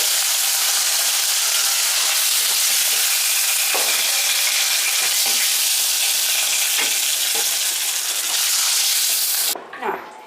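Nigella seeds and green chillies are tempered in hot oil left from frying hilsa, giving a loud, close crackling sizzle with stirring scrapes. The noise drops away sharply near the end.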